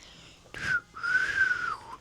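A woman whistling two tones, a short rising note followed by a longer sustained one that slides down at the end, close and clear with nothing else around it.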